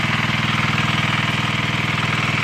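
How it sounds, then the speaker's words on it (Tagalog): A small engine, a water pump motor set up beside a stream to drain water, idles loudly and close with a fast, even chugging pulse and no pauses. "yung makina"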